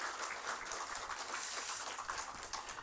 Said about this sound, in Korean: 우리 그분들을 격려하는 측면에서 한번 다 같이 한번 박수 한번 하도록 하겠습니다